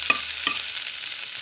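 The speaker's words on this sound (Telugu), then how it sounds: "ఈ టమాటాలు వేసుకుంటున్నాను మెత్తగా పడాలాగా." Chopped tomatoes sizzle in a hot pan while a spoon stirs them, giving two quick scraping clinks over a soft, continuous frying crackle, close by and with no voices.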